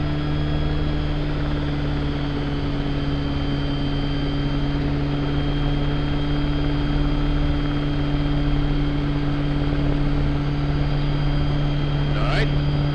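A helicopter hovering just after lift-off, with a loud, steady rotor and engine drone and strong tonal hum heard from inside the cabin, with a voice talking over it.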